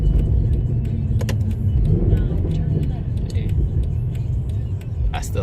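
Mercedes C63 AMG engine rumbling steadily while driving, a loud low drone throughout with brief gear-shift blips near the end.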